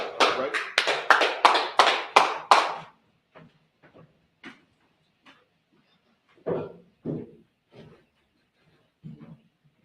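A handful of people at a brotherhood scripture class clap in a short, loud burst of separate hand claps for about three seconds, followed by sparse scattered taps and knocks.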